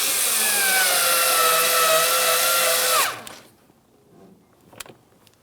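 A power driver tightening 10mm mounting bolts on a 2009-2014 Nissan Maxima rear window motor and regulator, a loud whirring run of about three seconds that slows and stops, followed by faint clicks and handling.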